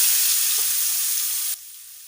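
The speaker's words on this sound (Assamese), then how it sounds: "পিঁয়াজখিনি দি গোল্ডেন ব্ৰাউন নোহোৱালৈকে এইটো ফ্ৰাই কৰিম" Sliced onions sizzle steadily in oil left from frying fish, with a bay leaf and dried red chillies, a loud continuous hiss that drops suddenly to a quieter sizzle near the end.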